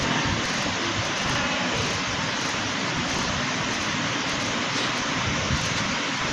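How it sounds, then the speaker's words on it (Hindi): A cartoon tractor engine arrives as a steady, loud, rumbling drone that runs unbroken through the whole stretch, with no voices over it. "हमारे क्या आ गए ट्रैक्टर, अपना ट्रैक्टर।"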